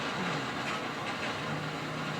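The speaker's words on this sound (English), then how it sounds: "stopping the unstoppable train on GTA 5" A moving train in the video game GTA 5, a steady rolling rumble with a continuous rail clatter throughout, fairly loud and without speech.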